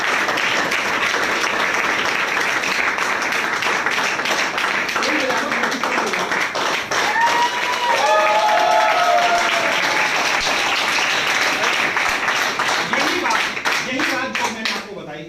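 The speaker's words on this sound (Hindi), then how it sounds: "ताली।" A seated audience at a network marketing training session breaks into sustained applause, dense and loud throughout, with scattered voices and cheers rising over the clapping.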